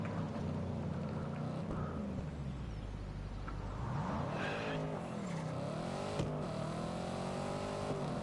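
A BMW drives in a racing game, its engine droning with pitch sweeps as it accelerates and shifts, plus hints of tire squeal, moderately loud and steady with no talk.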